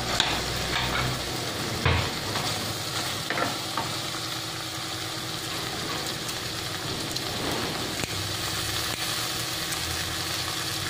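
Curry leaves and green chillies, snipped with scissors, hit a hot pan while making egg fried rice without oil, giving a loud, continuous close sizzle with stirring scrapes and a few clatters, no talking.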